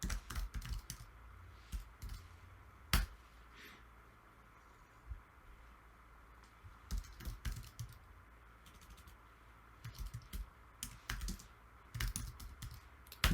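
Someone types commands on a computer keyboard in a quiet room, with irregular bursts of close, crisp key clicks separated by short pauses.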